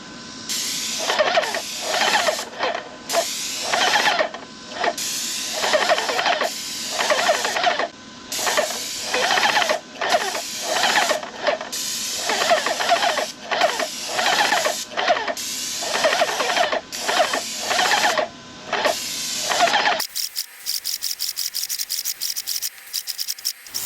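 Contractor-grade paint spray gun spraying paint onto a masked-off surface, a loud close hissing spray in repeated bursts of a second or two with brief pauses, followed by a buzzing motor hum at the end.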